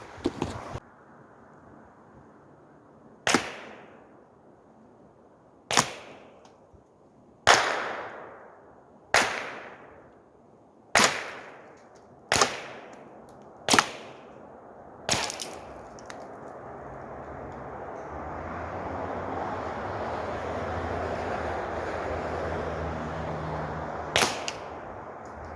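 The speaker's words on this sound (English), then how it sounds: "you're going to hear some shots that are going to impact the target, or impact the wood here, or impact the ground" A .22LR rifle fitted with a Blast Forward muzzle brake fires about ten sharp, loud shots at irregular intervals, each cracking outdoors with a short decaying tail, a few impacting a target, wood or ground, with a longer gap before the final shot.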